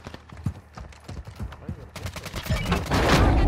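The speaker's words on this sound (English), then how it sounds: "Somebody's shooting at the bots" Gunfire in Call of Duty Modern Warfare II, a run of close sharp shots in quick irregular bursts that grows into a dense, loud barrage toward the end.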